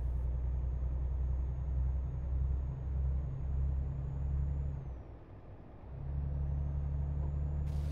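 A truck in a truck-driving video game, running in a convoy from Klagenfurt to Rostock, gives a steady low engine rumble throughout. The drone dips briefly near the end, then swells back up, with no talk over it.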